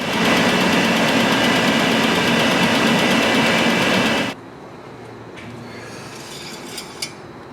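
Chevrolet S-10 Blazer engine running just after an oil change, a loud, steady idle that cuts off abruptly partway through, leaving quiet room noise with a couple of small clinks.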